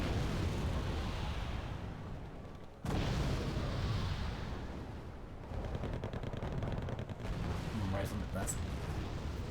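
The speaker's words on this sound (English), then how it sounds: "the mortars are currently busy firing over there and smoking there" Mortar shells fire repeatedly in a military video game, with dull booms and rumbling blasts running through the whole stretch alongside dense battle noise.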